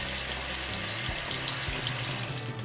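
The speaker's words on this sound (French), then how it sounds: "Donc je vais mouiller mon visage." Steady rush of water from a sink tap runs continuously while someone wets their face, with low splashing and a brief cut-off near the end; no talking.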